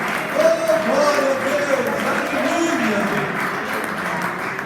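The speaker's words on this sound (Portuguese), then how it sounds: "aplaude o Senhor" Congregation applauding during a Portuguese-language evening church worship service, a dense steady wash of clapping under a loud voice speaking throughout.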